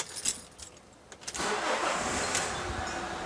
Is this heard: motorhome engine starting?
yes